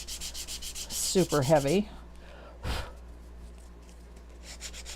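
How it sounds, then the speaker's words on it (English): A sanding sponge scrubs over painted wood to give it a worn, distressed finish, making a steady run of close, rhythmic rasping strokes while a person talks briefly partway through. "I'm going to use that same sanding sponge and I'm going to distress the flat surface"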